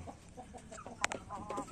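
Free-range chicken clucking softly while scratching the ground for worms, a few short close clucks over faint outdoor background noise.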